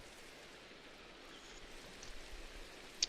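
Steady rain at night in Minecraft rendered with Rethinking Voxels path-traced shaders: a soft, even hiss of falling rain throughout, fairly faint and alone, with one brief sharper tick near the end.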